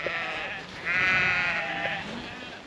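Sheep in a big flock of around 150 call out in a Northumberland field, a chorus of overlapping bleats with one long loud cry in the middle and fainter ones around it.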